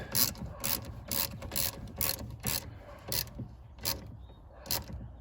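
A ratchet tightens a 10 mm bolt on an Infiniti heater inlet control valve, with about nine evenly spaced bursts of close, sharp clicking separated by short pauses.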